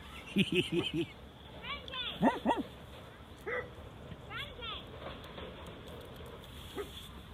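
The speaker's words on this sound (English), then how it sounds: "He was barking at me first." A dog barks at a campsite in several short bursts and yips, nearby but fairly quiet, with pauses between clusters of barks.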